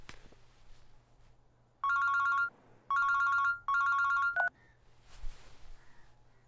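An electronic phone tone repeats in three steady bursts over low room hum, followed by a brief chirp, with no talking.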